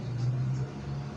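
A Rusi Flash carbureted motorcycle engine turns over at its first start after an oil cooler install, giving a short, low, steady mechanical hum with a faint rumble close by.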